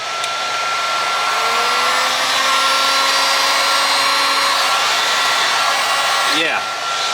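Makita 18V LXT cordless heat gun XGH02ZK running steadily at close range, a loud continuous blowing whine that holds for several seconds, then winds down with a falling pitch near the end.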